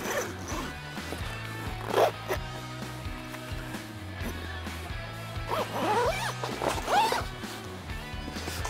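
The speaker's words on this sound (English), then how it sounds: "This zipper, super easy." A zipper on a sleeping bag sleep system being run along its track, with several sharp close zipping strokes, two of them prominent, over a steady background hum.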